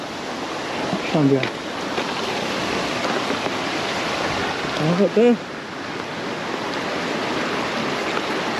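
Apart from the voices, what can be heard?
small waterfall in a canyon in Lebanon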